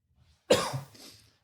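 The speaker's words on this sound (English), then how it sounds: "Sorry, I need to cough." A single sharp cough bursts out close to the mic, followed by a short trailing rasp, in a quiet room with no talk over it.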